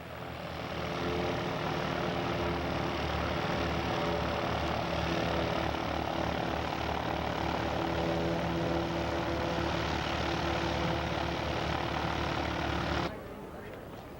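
A Smith Aerostar scale model aircraft flies past at a scale aircraft show, its engine droning loudly and steadily for about thirteen seconds before cutting off abruptly into quieter background.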